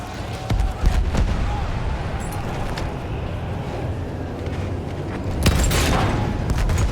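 A grenade goes off in Battlefield 1 as a deep boom near the start, with a second heavy blast later, over constant low battlefield rumble and scattered gunfire.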